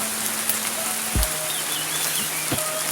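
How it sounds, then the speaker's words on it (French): Heavy rain pours down steadily in Spain's Basque Country, a dense hiss of drops hitting the surface, with a few louder close splashes and faint bird calls behind it. "la pire averse que j'ai eue depuis le début"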